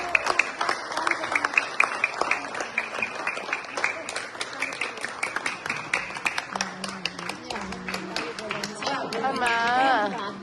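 Wedding guests applauding at a gift-giving moment, a dense, steady round of close clapping from a crowd that carries on throughout, with voices talking over it and rising near the end.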